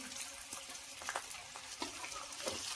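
Onion frying and being stirred in a pan for veg manchurian gravy, a faint steady sizzle with a few soft scrapes of a spoon, close but quiet, no voices.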